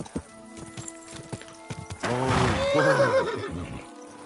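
A horse in the medieval video game Kingdom Come: Deliverance II, a few scattered hoof clops followed by a loud close whinny, then more hoof clopping, with no talk.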